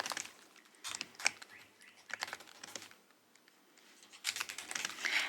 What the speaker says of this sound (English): Let me make sure I'm typing that correctly.